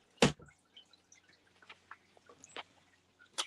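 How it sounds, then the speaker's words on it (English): A home aquarium trickles faintly in the background, with one sharper drip near the start and then soft, scattered drips and splashes, with no talking. "I know y'all hear my aquarium in the back."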